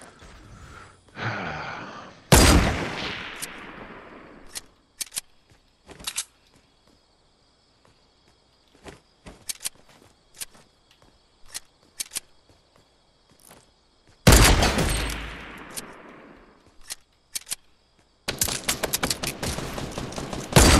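Gunfire in a sniper shooter video game, sharp loud shots with reverberating tails, scattered single cracks and short volleys, alongside softer clicks and a rapid burst near the end, no talking.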